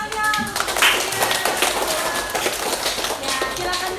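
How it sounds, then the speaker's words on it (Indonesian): Students in a classroom clap together in a dense, lively patter for several seconds, with voices calling out over it near the start. "Beri tepuk tangan."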